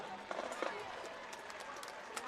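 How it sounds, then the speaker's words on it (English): Crowd at a high school football game applauding the marching band and Junior Air Force ROTC, a distant, faint wash of clapping and cheering in an open stadium, steady throughout. "Please give them a round of applause for their commitment."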